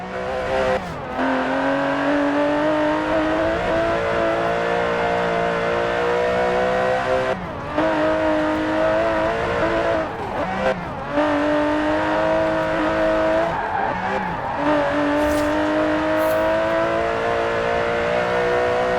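Aston Martin DB11 with a 5.2-litre twin-turbo V12 in Forza Horizon 4, engine droning loud and close with repeated revs rising and dropping between gear changes, no talk.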